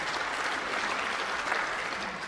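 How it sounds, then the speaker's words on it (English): Snooker crowd at the World Grand Prix semi-final between Marco Fu and Ryan Day, applauding a break with a steady, moderately quiet patter of clapping throughout, with no speech over it. "Applause from the crowd."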